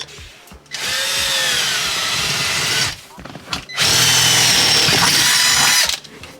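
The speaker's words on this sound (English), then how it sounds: "And we're gonna drill one hole there" A power drill whines loudly in two long bursts, drilling a bolt hole while fitting a BMW short shifter, with brief handling noises and a pause between runs.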